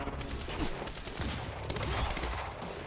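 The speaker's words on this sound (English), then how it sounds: "I'm being shot at." Rapid gunfire in the video game Quantum Break, a dense run of overlapping shots at moderate distance, steady throughout with no talk.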